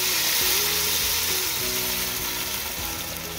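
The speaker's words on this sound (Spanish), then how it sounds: "Aquí tengo un sartén precalentando un poquito aceite de oliva." Red chilaquiles salsa hits a preheated pan of olive oil, raising a loud, continuous sizzle and bubbling hiss that stays strong and eases only slightly over a few seconds, with a faint tonal hum underneath.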